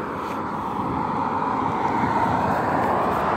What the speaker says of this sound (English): Comes another fucking airplane